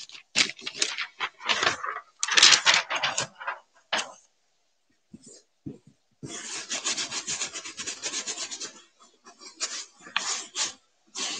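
Sandpaper rubs over a painted purse in repeated rasping bursts, close and fairly loud, with a brief pause midway before steady back-and-forth sanding resumes.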